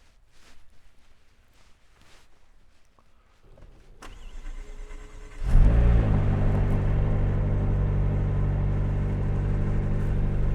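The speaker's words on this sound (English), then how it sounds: "Only a one error McLaren startup, which is a rare treat." A purple McLaren sports car is unlocked and the cabin electronics chime before the engine cranks and fires into a loud, deep, steady idle that continues to the end, heard close.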